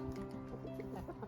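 Chickens clucking inside a winter coop, a dense overlapping chorus of close, steady clucks and murmurs from several birds, continuous through the short stretch with no talking.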